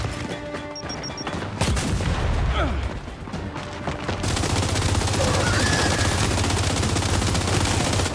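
Sustained gunfire from Gears 5: dense automatic bursts and booming shots roll on almost without pause, loud and close, with a brief voice in the mix.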